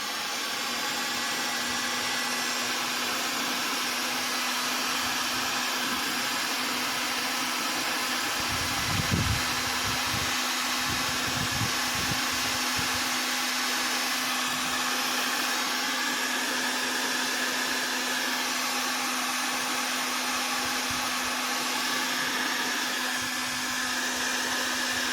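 Heat gun shrinking 3-to-1 heat shrink tubing in a DIY instrument panel pedestal build, a steady close blowing roar with a constant hum that runs unchanged throughout.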